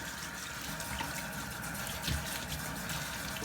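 A bathroom tap runs steadily while hands are washed at a sink, a constant close hiss of flowing water with a brief splash partway through.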